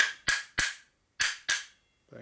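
Four sharp metallic hammer blows driving two 1/4-inch by 1/2-inch dowel pins into the transmission of a 1961 Harley-Davidson Sportster XLCH during a rebuild, spaced in two pairs with silence between and a faint clunk at the end.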